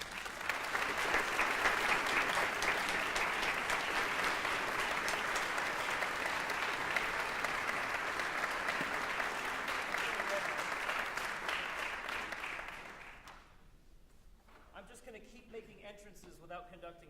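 A concert hall audience applauds a university symphony orchestra, with sustained, even clapping that fades after about twelve seconds, leaving quieter room noise and a voice.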